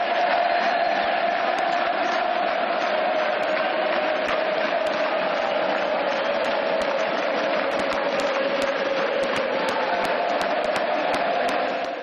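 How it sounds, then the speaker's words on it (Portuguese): A packed sports arena crowd applauds and cheers in tribute to Chapecoense, a dense, continuous roar of clapping and voices that stays loud and steady throughout before easing slightly at the very end. "O ginásio todo se levantou para aplaudir, para em seguida soltar o grito."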